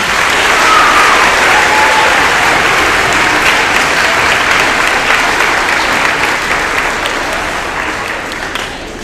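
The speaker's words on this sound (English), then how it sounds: "Let's give all of these students a round of applause." A large school assembly audience claps steadily in dense, loud applause that holds for several seconds before gradually tapering off.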